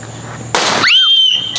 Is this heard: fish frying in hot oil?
no